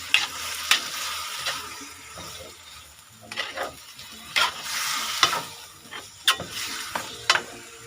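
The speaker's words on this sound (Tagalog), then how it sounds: "Yun at haluin lang po natin." A spoon stirs tinola chicken with papaya and chili leaves in a pot, giving repeated scraping, clinking strokes at an uneven rhythm over a faint simmering sizzle, close and without speech.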